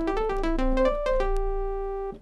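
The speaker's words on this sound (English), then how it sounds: "That's the sawtooth wave, and it sounds like this." A synthesizer sawtooth wave plays a short run of bright, buzzy notes with a rich stack of harmonics, ending on one sustained tone that cuts off abruptly, clear and alone.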